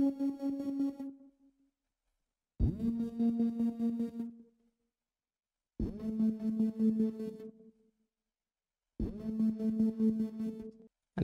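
A second synth in a self-produced song plays four sustained tonal notes, each with a sharp attack and buzzy pulsing texture, separated by short silences, loud and alone with no talk.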